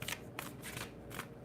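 Tarot cards rustling and sliding as one is drawn from the deck, quiet papery shuffles coming in a few brief bursts close by with no talking.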